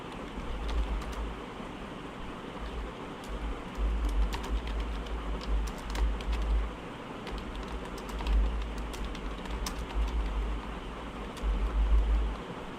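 Computer keyboard typing while writing an IELTS essay, a continuous close patter of key clicks with occasional louder strokes and a low background hum, no talk.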